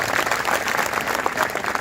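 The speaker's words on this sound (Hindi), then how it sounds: "जोरदार तालियां उन लोगों के लिए होना चाहिए" Loud, steady applause from a crowd at a public gathering, continuous dense clapping filling the whole short stretch without a break.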